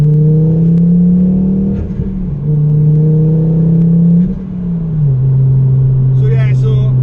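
Ford Focus ST225 engine droning steadily at high revs under boost, with a couple of brief dips as the throttle shifts before it settles again, loud and close throughout, with a faint voice near the end.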